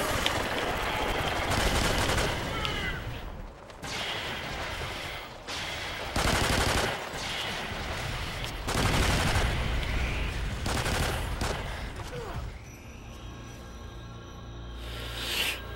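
Shotgun fire and other weapons blast in Call of Duty Ghosts Extinction, with heavy, overlapping bursts of shots rattling loud and close, easing into quieter, sparser noise near the end.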